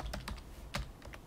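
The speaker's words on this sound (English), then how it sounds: "I can type a title like rating. I can type frequency." Quick keystrokes clack on a computer keyboard while text is entered into an Excel spreadsheet: several close, crisp taps in an uneven rhythm with a brief pause in the middle, and no voices.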